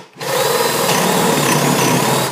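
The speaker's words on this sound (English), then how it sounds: "And you drill away." A power drill with a larger bit whirs steadily and loudly, enlarging an existing drilled hole after starting abruptly, a continuous close grinding whine that cuts off at the end.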